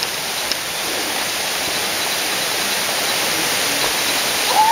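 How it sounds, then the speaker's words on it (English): A waterfall heard on a cave hike after flooding, a steady, dense broadband rush of falling water that stays loud and unbroken throughout, with no talk. "But the waterfall up there."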